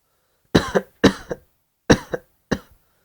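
Four sharp coughs from one person close up, in two pairs with a short gap between them, each burst dropping quickly away to near silence.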